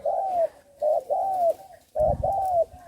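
A spotted dove coos nearby in repeated soft, hooting phrases with short pauses between them, with no other sounds around it.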